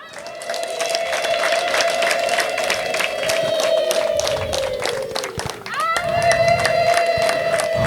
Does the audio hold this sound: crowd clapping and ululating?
yes